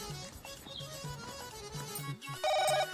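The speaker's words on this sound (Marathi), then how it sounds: "आईला सकाळीच कोणता फोन वाजता." A phone ringtone plays over a steady repeating electronic tone pattern, a bright melodic burst rising near the end, fairly close and alone without talk.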